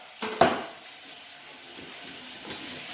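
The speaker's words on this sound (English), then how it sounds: "Rinse that thing out." Kitchen tap water briefly running as something is rinsed under it, a short splashy burst near the start that settles into a faint, steady background hiss.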